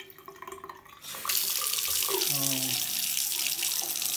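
A newly installed bathroom basin tap is turned on and gushes water into the sink, a loud steady hiss and splash that starts abruptly and runs on; a voice is briefly heard just as the flow begins.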